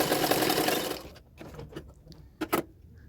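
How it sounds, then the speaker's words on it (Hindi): A sewing machine stitches the katori seam of a size 30 blouse in a dense, close whirring run for about a second, then stops, leaving a few soft clicks and taps of fabric handling. "अभी 1/2 इंच मार्जिन रखते हुए मैं सिलाई कर रही हूँ।"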